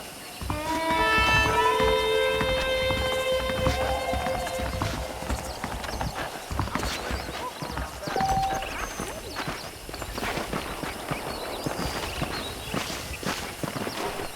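A horse in Red Dead Redemption walks with a steady clip-clop of hooves, close and clear, over outdoor ambience, with a brief whinny near the start.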